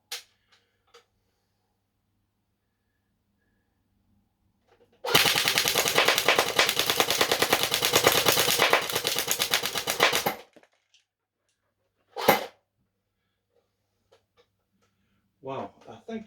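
Cyma CM.060B airsoft gun fired in rapid succession for several seconds at a target catcher, a dense mechanical clatter of shots, followed by a lone sharp shot and brief faint noises; a voice is heard briefly.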